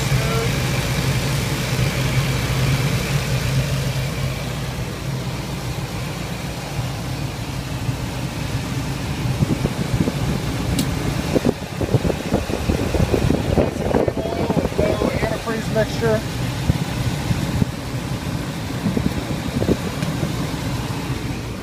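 A 2001 Ford F250 Super Duty with a 5.4 liter Triton V8 and high mileage idles smoothly and steadily, a close, continuous low engine rumble throughout, with a voice talking over it partway through.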